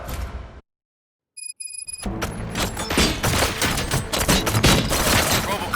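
Heavy gunfire erupts in RoboCop: Rogue City, dense bursts and thuds filling the scene loudly after a brief silence, with shots overlapping continuously to the end.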